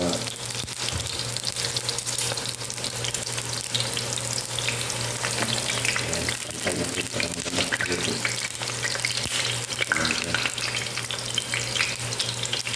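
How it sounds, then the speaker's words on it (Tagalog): Eggplant frying in oil in a pan, a loud, continuous close sizzle with constant crackling and occasional stirring noises, steady from start to finish without talk. "naluto ko na yung pritong talong"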